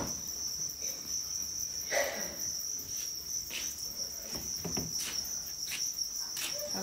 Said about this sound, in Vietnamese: Các con dế con.